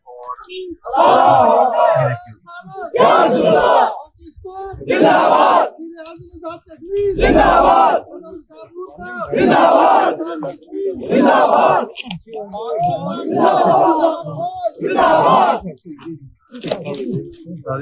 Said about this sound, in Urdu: یہاں پر پاک فوج زندہ باد کے آج بھی نعرے لگ رہے ہیں